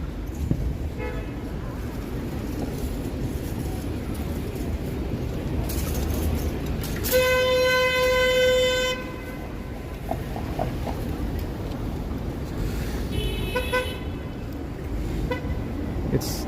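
Car horns honking in downtown Toronto's financial district during rush hour, a sustained blare of a couple of seconds plus shorter toots over a constant traffic rumble, with talking nearby.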